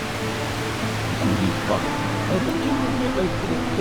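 Water pours steadily through the narrow Partnachklamm gorge in Germany, a dense, constant roar of falling spray close around, with a voice talking faintly beneath it.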